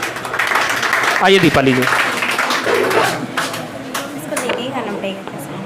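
An audience at a Teachers' Day school event claps to welcome a singer, a steady patter of applause running under someone speaking into the microphone.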